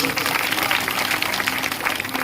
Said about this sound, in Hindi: इनके लिए तालियां बजाओ पहले तो मेरे बाबा के लिए